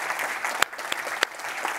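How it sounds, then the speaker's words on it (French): An audience at a French artisan awards ceremony applauds, giving steady, close clapping throughout with a few louder individual claps standing out. "Et on peut l'applaudir"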